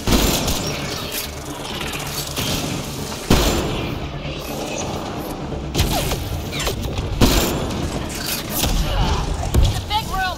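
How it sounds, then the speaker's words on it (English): Mass Effect: Andromeda firefight inside a gun battery room: steady rattling gunfire with heavy booms and impacts continues throughout, loud and close, while voices shout over the fighting. "It's a gunfight in the gun battery then."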